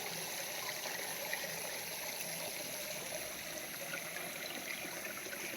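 A fairly fast-flowing forest stream, home to small fish, gives a faint, steady watery rush with a soft trickle. The sound is continuous and even throughout, with no voices.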